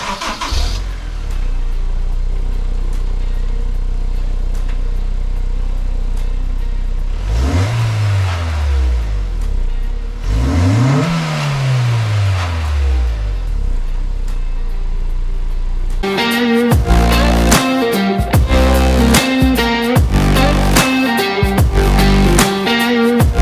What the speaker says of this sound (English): Let's see how the S2000 sounds with just pure regular stock exhaust.